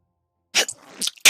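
A person sneezes loudly and close, with sharp bursts of breath and a strained exhale after a moment of silence.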